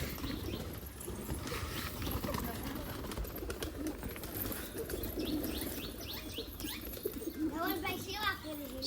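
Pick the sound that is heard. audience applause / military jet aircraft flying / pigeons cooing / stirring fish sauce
pigeons cooing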